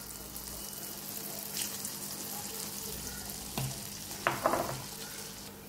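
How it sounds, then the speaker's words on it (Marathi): Dahi vada lentil fritters deep-frying in hot oil, a faint continuous low sizzle with a few soft clinks and handling sounds near the end. "आता आपण वडे तळून घेऊया।"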